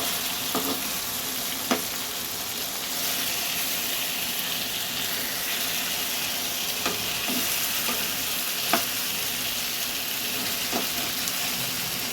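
Pieces of chicken chaap frying in a pan, a loud, continuous hissing sizzle with occasional sharp crackles and a few scraping stirs, close up and with no talking.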